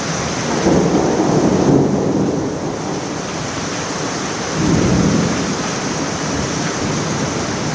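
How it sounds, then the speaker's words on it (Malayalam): A thunderstorm with rain in Kerala, with steady heavy rainfall hissing throughout and two deep rolls of thunder rumbling through it, loud and close, with no voices. "കടുത്ത ചൂടിൽ നിന്നും ആശ്വാസമേകി മഴ എത്തിത്തുടങ്ങി"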